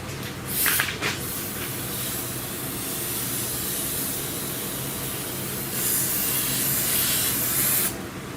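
Steady hissing spray washes off air conditioning parts from a 2007 Suzuki Forenza. A brief louder burst comes near the start, and a stronger stretch of spray follows toward the end, close and continuous with no talking.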